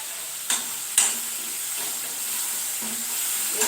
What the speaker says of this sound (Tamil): தக்காளி போட்டுருக்கேன் வதக்கட்டும்